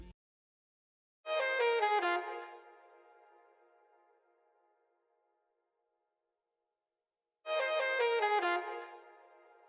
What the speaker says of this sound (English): And then I chopped a saxophone from Splice or a trumpet and sampled it as well